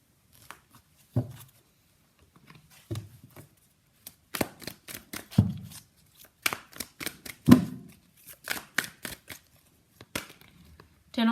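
Tarot cards are shuffled and pulled from a deck, heard as scattered crisp flicks and riffles in quick bursts, close and fairly quiet with brief pauses between them.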